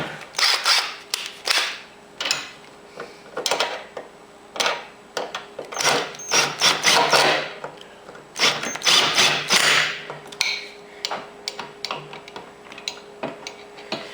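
Rapid metallic clicking in uneven bursts as the front spindle knuckle assembly on a Cub Cadet 1650 lawn tractor is tightened, the clicks close and fairly loud throughout with short pauses between runs.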